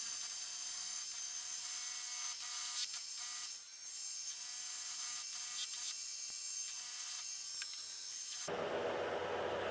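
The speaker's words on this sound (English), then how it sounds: "So I'm drilling this." A power drill bores a hole in a chain-making project at fairly high speed, pecked in with light pressure. It gives a steady, close whine with brief dips in between, then shifts to a harsher, noisier grind near the end.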